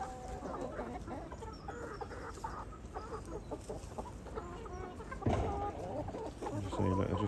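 Young cockerels and hens cluck steadily on a farm, close and overlapping, with a louder flurry of calls near the end.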